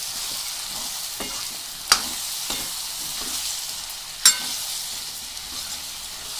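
Vegetable biryani mixture fries in a pan while being stirred, a constant hissing sizzle broken by a few scraping strokes and two sharp clanks of a spoon on metal.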